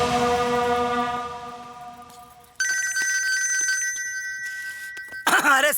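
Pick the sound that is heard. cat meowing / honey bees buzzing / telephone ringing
telephone ringing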